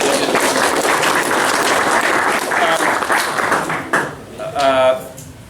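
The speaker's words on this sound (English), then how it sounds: "give Michael a round of applause." A room full of people applauds with steady clapping that fades out, followed by someone speaking.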